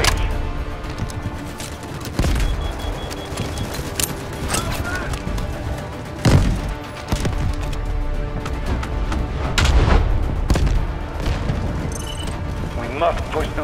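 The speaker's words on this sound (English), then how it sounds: "Artillery cover coming." Artillery fire in the military shooter Delta Force, with repeated heavy booms and distant shots over a constant battlefield rumble and radio-style voices talking.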